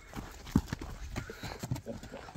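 A young half-bred horse, about a year and a half old, walks on command, its hooves clip-clopping in soft irregular beats close by, mixed with faint background voices.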